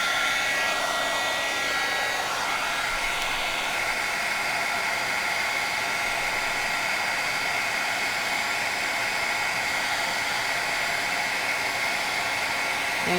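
A heat embossing tool blows hot air steadily and continuously at close range, a loud even whooshing hiss with a faint whine that holds without a break, used on a sparkly poinsettia card.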